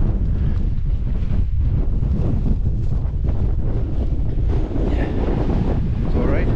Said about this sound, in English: The wind's blowing it all away.